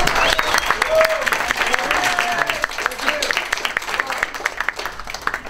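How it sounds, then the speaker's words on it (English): Guests at a wine tasting evening give a warm round of applause, many hands clapping steadily while a few voices and whoops rise over it, tapering toward the end. "We want to have an extremely big round of applause for John Sarafine and the Great Expectations staff."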